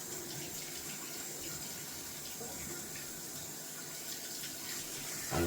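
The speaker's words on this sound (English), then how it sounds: "Just rinsing off the tub." Running water from a tap rinses suds off the top of a shaving soap tub in a steady, fairly quiet splashing stream that swells slightly at the end.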